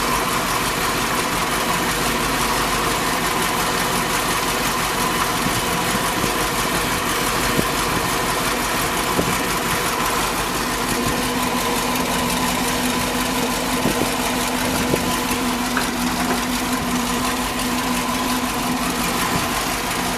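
A 1978 Dodge Warlock engine idles steadily with a continuous low rumble and faint vibration, close and even throughout with no voices.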